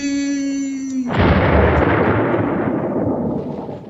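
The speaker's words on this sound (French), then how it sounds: "On aurait dit des coups de feu, ça c'est spécial." A gunshot-like bang in a video game. After a steady tone, one loud, close blast hits and then fades in a long rumbling tail.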